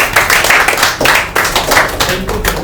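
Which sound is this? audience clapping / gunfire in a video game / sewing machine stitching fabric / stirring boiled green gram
audience clapping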